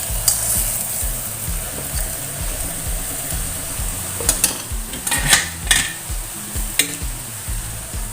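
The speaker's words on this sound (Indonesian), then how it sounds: "cara Mama Criwis menumis sayuran campur-campur" Mixed vegetables with mustard greens stir-fried in a pan, a loud continuous sizzle with irregular clanks and scrapes of a utensil against metal clustering toward the end, over faint background music.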